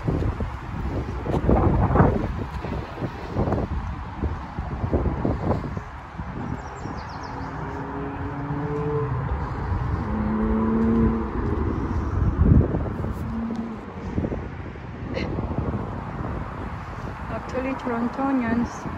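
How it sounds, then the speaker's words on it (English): Traffic on the Don Valley Parkway in Toronto, a steady noisy roar of cars passing in the distance with wind buffeting the microphone, while someone talks over it throughout. "The sound is the sound of cars that's passing by through the Don Valley Parkway."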